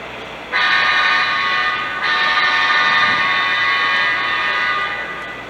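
A loud, steady rumble of heavy diesel locomotives running light, without a train, rolling by with droning engines that swell and then begin to fade.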